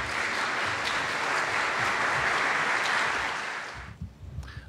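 An audience applauds a guest speaker at a lecture on Iranian history, a steady, full-room clapping that holds for about four seconds and then quickly dies away.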